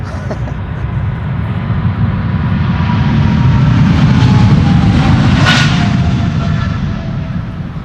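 A KLM Boeing 777-300 airliner at Amsterdam Schiphol Airport rumbles with loud, sustained jet engine roar, a dense low-heavy wash that swells slightly toward the middle.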